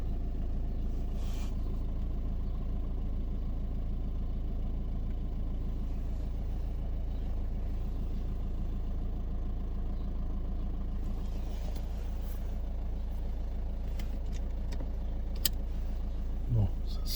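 Heater blower fan in a Citroën DS3 1.6 HDi, a steady, continuous whooshing airflow with a low hum, heard from inside the car with faint clicks and small handling noises over it.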